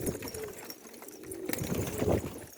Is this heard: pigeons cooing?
yes